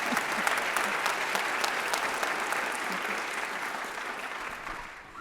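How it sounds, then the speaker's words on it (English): Steady applause for honorees fills a board of education meeting, a dense wash of many hands clapping for several seconds before it gradually thins and fades. No one speaks over it. "Clap for them"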